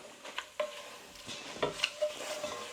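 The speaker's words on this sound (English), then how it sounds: "Let's give it a bit of a stir." Ground cumin and spices toasting in a pan for lamb rogan josh, quiet sizzling with several spoon scrapes and small metallic clinks as they are stirred, close but faint.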